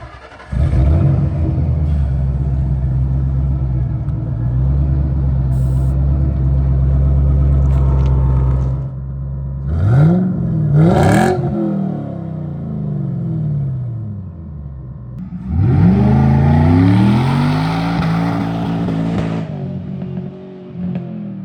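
A 600hp supercharged Saleen V8 Mustang with a gutted stock exhaust and larger tips idles with a deep rumble, then revs sharply twice and again in a longer, louder burst before settling.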